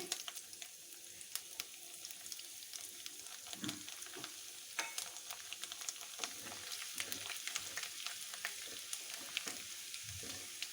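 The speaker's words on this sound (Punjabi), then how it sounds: "ਲਸਣ ਨੂੰ ਫਰਾਈ ਕਰ ਲਾਂਗੇ" Finely chopped garlic and cumin seeds fry in hot oil in a pan, giving a steady close sizzle with crackling pops and occasional scrapes of stirring, and no voices.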